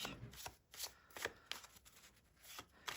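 Playing cards shuffled by hand in quick, riffling bursts, fairly faint and close, with brief pauses between passes and no talking.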